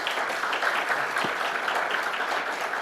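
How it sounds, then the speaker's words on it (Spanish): An audience applauds after a talk at an academic event on crimes against journalists and human rights defenders, a dense, steady clapping from a crowd lasting the whole moment. "un aplauso para ustedes por su participación activa de esta tarde"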